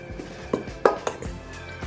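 Khachapuri dough ingredients being mixed in a bowl, with a few sharp utensil knocks and scrapes against the bowl, sparse and close, one louder clack in the middle, alone without talk.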